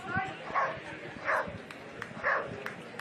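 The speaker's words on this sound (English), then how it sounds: "The dog trying to put him off as he kicks the ball towards the post." A dog barks at a rugby league match, giving several yips spaced out across a noisy outdoor crowd and mixed with voices.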